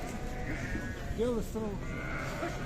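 Lambs bleating at a livestock market in Sokuluk, a couple of wavering bleats close by amid crowd chatter and background noise.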